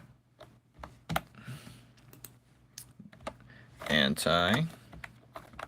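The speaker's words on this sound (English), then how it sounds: "I'm typing this one-handed" Keyboard typing done one-handed, scattered clicks and taps at close range with a loud burst of voice partway through and talk around it.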